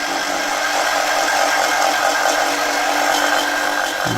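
A power sander grinds steadily against the end of a small brass piece held in a jig, a continuous close, fairly loud whirring abrasion with no talk.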